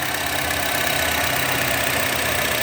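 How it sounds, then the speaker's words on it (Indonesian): A Honda HR-V 1.5 E CVT engine idling after 1500 km on Fastron Techno 5W-30 synthetic oil, a steady, even hum heard close up with no change in pitch. "suara mesinnya seperti ini"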